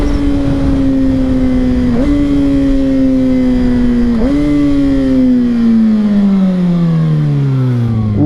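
A 2022 Kawasaki ZX6R 636 motorcycle engine pulls hard through the gears, a loud close high whine rising in pitch, dipping briefly at each of two shifts, then winding down over heavy wind rumble.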